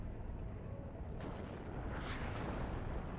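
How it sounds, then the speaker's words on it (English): Artillery fire in the real-time strategy game WARNO rumbles as a steady, dense low barrage, with a few sharper bursts and crackles rising from the continuous roar. "Luckily, don't really have any infantry here, so this artillery not going to do much."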